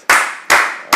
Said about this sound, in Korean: 시원하게 박수 한번 쳐요.